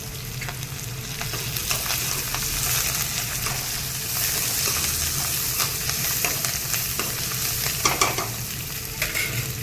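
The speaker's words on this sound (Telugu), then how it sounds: "ఇప్పుడు ఇందులోనే మనం కొంచెం కరివేపాకు వేసుకుందాం." Curry leaves dropped into hot oil with fried chana dal in a pan, crackling and sizzling loudly and continuously while a spoon stirs with occasional scraping clicks, no voices.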